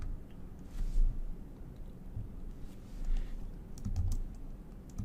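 Steady, rapid computer keyboard typing while entering code, a continuous patter of soft keystrokes heard close up over a low background hum, with no talking.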